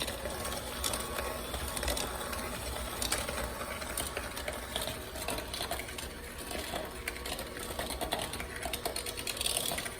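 An electric mixer whips chocolate chip cookie dough at raised speed, giving a steady, close, continuous mechanical whirring with faint rattling and no talk.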